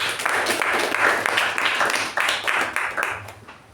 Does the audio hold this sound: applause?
yes